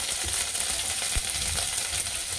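Vegetables fry in hot oil over a full flame, giving a steady, even sizzle that stays close and constant throughout, with no talking.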